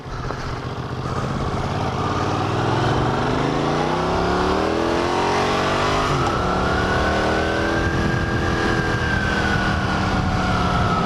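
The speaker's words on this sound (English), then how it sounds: "This is a great little bike. It is cold-blooded." A 1981 Honda CX500 motorcycle engine heard while riding on a cold commute, loud and steady with the pitch rising and falling through gear changes and accelerations, captured close with constant wind rush and no talk.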